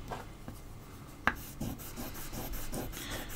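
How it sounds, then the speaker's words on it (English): A wood carving chisel is sharpened with repeated soft, rasping rubbing strokes at a steady pace, broken by one sharp click, quiet and close with no talk. "let's give this chisel a sharpen"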